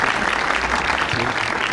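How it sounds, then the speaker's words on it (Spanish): A room full of people at a panel discussion on teacher training claps steadily, a dense even patter of applause with no pauses. "quiero solicitar para todos un aplauso a Ruth, nuestra editora."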